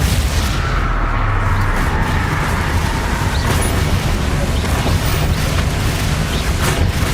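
A Confringo blasting spell from the video game Hogwarts Legacy erupts in loud, rumbling explosions over dense, continuous booming battle noise.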